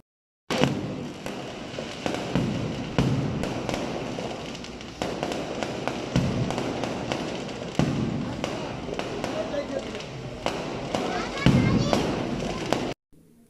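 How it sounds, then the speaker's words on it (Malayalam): Aerial firework shells bursting overhead at the Irinjalakuda church festival in Kerala, a dense, continuous barrage of loud cracks and booms in rapid irregular succession, with crowd noise faint beneath. "പിന്നെ അമിട്ട് പൊട്ടിയതാണ് ഞാൻ ഷൂട്ട് ചെയ്തുള്ള കാരണം ഭയങ്കര ശബ്ദം"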